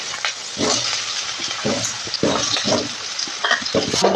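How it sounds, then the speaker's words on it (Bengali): Pieces of taro frying in hot oil with cumin and green chili hiss in a loud, continuous sizzle, with stirring scrapes and clatters breaking in now and then. "আর একটুখানি হলুদ দিয়ে কচুগুলোকে খুব ভালো করে ভেজে নেব"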